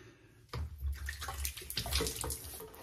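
Hot water runs from a bathroom tap during a safety razor shave, a close, steady rushing stream that starts abruptly and keeps going alone, with faint low rumble beneath.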